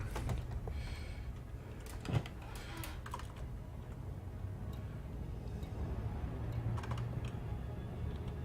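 Keyboard typing, a quiet run of soft key clicks over a low steady hum, with one sharper knock partway through.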